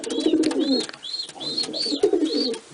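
Pigeons in a breeding loft coo in repeated soft, rolling phrases, close and clear, with brief pauses between calls and no talk over them.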